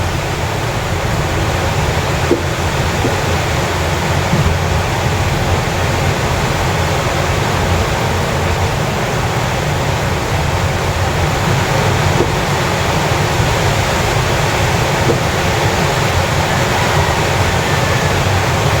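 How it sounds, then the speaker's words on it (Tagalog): Heavy rain pours down in a steady, dense roar that keeps up without pause for the whole stretch, in the Philippines. "Ulan na naman."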